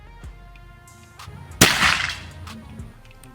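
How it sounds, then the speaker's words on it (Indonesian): A Predator Escobar Gen 2 PCP air rifle fires a single sharp, close crack at an outdoor 70-meter range, followed by a short decaying tail of echo. "Kita lanjut lagi tembakan keempat."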